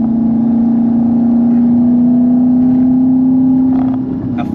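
Heard from inside while driving, a Lexus IS F engine holds a loud, steady, smooth drone at constant pitch, easing off slightly near the end.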